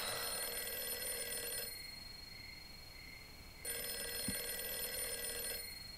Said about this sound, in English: Can you please pick up your phone?